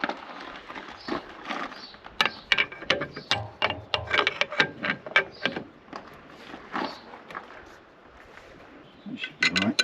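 A ratchet spanner tightens a fan belt adjuster, giving a run of quick, close metallic clicks in irregular bursts with short pauses.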